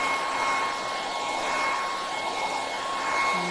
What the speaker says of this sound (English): So we'll just hit that with the hairdryer.